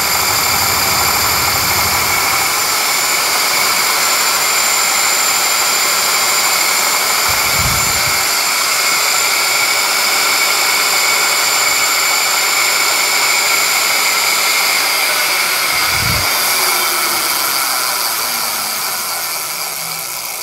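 A steady, loud high-pitched electric bike motor whine holds throughout at about 60 mph, with wind rushing underneath and a couple of brief low thumps.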